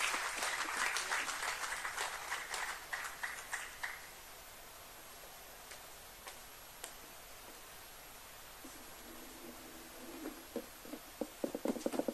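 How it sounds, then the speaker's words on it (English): Applause for a guest speaker at a political party plenum, a burst of clapping that fades out after a few seconds, then scattered claps picking up again near the end over a faint murmur. "Let us give him a round of applause."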